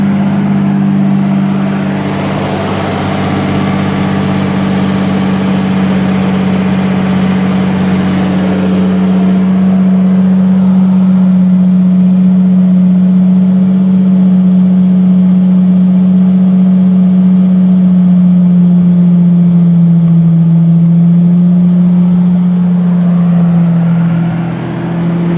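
A 1999 Lamborghini Diablo with an aftermarket exhaust idles loud and steady at close range, its low droning rumble shifting slightly in pitch over a long stretch with no talk.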